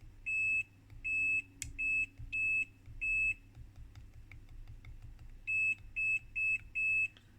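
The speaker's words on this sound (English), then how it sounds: "so the beep comes a little bit delayed" Continuity beeps from a GW Instek GDM-8246 dual-display bench multimeter, a series of short steady electronic tones repeating in bursts with a pause in the middle, alone over faint background hum.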